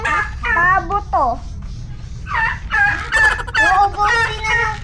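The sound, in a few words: turkey calling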